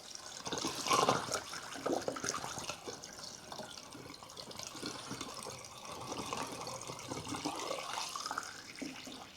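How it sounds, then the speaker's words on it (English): Water poured from a container into a Ford Focus windscreen washer reservoir, a soft, steady gurgling splash that runs for several seconds. "I'm just going to top up with water on this one."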